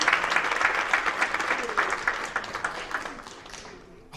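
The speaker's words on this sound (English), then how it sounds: "Applaud the poet" At a poetry slam, an audience applauds a poet after the scores are read, with a burst of clapping and crowd noise that trails off over a few seconds beneath faint voices.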